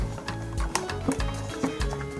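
A part of a DJI Mavic 2 Pro drone being snapped into place: several short, crisp plastic clicks in an uneven rhythm, close and fairly quiet.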